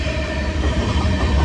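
A freight train hauling grain cars rolls past close by, a loud, steady rumble of heavy wagons with a faint metallic ring over it.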